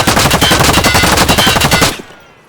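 Submachine gun in the video game Escape from Tarkov firing one loud, rapid sustained burst of about two seconds, then cutting off into a brief fading tail.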